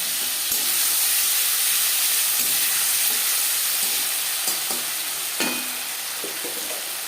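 Panch phoron spices and a bay leaf, then ginger and green-red chili paste, frying in hot oil for a niramish cabbage curry, with a steady close sizzle and hiss and a few brief stirring clinks.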